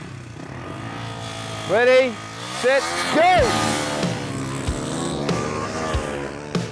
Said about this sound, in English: Are you ready, boys? Start your engines.